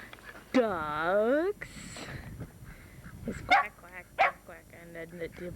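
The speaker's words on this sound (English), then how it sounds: "the puppies are making barking noises" Puppies on a farm yelp and bark in a high, wavering whine followed by a few short yips, close and fairly loud, with a person talking between them.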